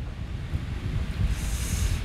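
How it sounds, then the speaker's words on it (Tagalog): Strong wind buffets a microphone during an outdoor wind test, producing a loud, continuous low rumble with gusty swells and a hissy rise toward the end, with no voice over it. "Ayan, malakas yung hangin."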